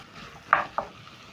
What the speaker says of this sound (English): Stir in